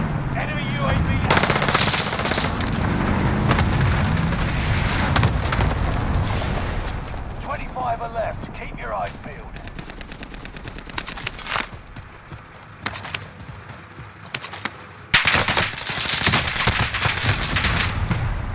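Call of Duty Warzone Rebirth Resurgence gunfire rattles loud and close in long automatic bursts, thinning to scattered single shots before another heavy volley, with the player's voice heard over the firing.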